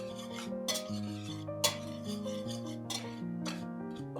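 Dry cake ingredients being stirred in a bowl to break up lumps, giving a steady scraping and rasping with light clinks of the utensil against the bowl, repeated strokes over quiet music.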